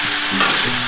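Chopped capsicum goes into a pan of frying mixed vegetables, producing a loud, close, continuous sizzle with a brief surge as it hits the hot oil.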